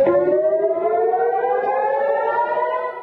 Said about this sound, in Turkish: sirenler çalmaya başladı